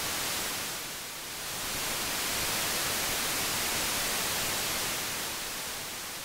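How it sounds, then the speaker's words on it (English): Steady hissing white noise from a Blue Lantern Modules EOS Ergot Organic semi-modular synthesizer, broad and even, swelling slightly after a brief dip near the start. "Let's go to white noise and turn the noise up. And we just have regular noise."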